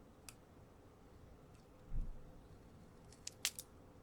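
Scissors snip through craft paper in a few faint, quick cuts: a soft thud near the middle, then a small cluster of sharp, crisp snips toward the end against a quiet background.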